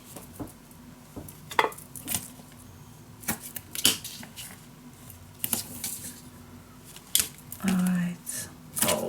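Sticky tape on a handmade scrapbook mini album: scattered light clicks and paper taps, then a short, drawn-out squeaky pull of tape from the roll near the end, close and fairly quiet.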